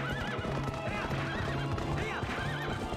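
A horse in the video game Zelda: Twilight Princess neighs and whinnies while its hooves clip-clop at a gallop, loud and close over continuous game music.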